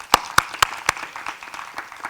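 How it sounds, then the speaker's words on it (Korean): Audience at a public city-development debate gives a short, scattered round of clapping: a few distinct claps, then a softer patter of applause at moderate distance. "우리 박수 한번 치시죠."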